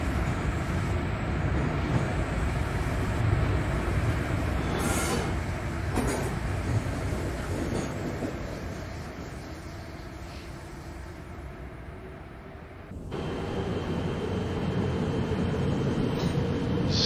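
A train in the Train Sim World game, a Rheingold passenger train with a dining car, rumbles along steadily with dense low noise. One abrupt change partway through shifts the tone, and no voices are heard.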